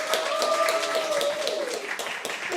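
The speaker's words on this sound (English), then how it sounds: "can we have a big round of applause and screams for Dee Majek, guys, please?" Audience applause and cheering greet a poet being introduced at a meet-the-author event, a dense, steady wash of clapping lasting throughout with some tonal voices mixed in.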